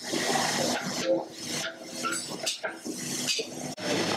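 Vegetables and turmeric powder being stirred in a pan for khara bath (tarkari uppittu), with steady scraping and clinking of a utensil against the metal throughout, close and continuous.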